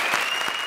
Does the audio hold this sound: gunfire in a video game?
no